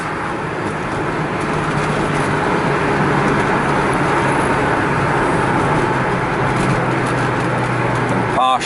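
A Datsun 280Z's engine holds a steady, loud drone with the throttle down, heard from inside the car along with road and cabin rumble, ending in a brief thump.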